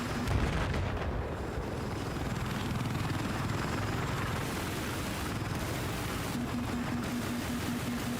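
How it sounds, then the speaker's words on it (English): A fully loaded support helicopter in a shooter video game, a steady whirring rotor drone with dull booms and gunfire rumbling underneath, sustained and fairly loud throughout. "This is a full fucking fully loaded support heli."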